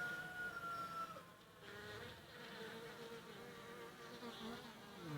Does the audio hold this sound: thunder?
no